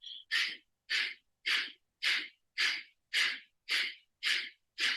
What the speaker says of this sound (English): the belly, navel is pumping with your powerful breath of fire